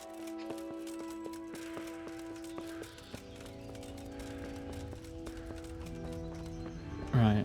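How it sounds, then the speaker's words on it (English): Horse hooves clip-clopping at a gallop in the Kingdom Come Deliverance video game, a steady rhythmic beat under game music, ending with a loud neigh. "Get my horse."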